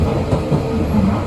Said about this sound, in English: This is a Central Line train to West Ruislip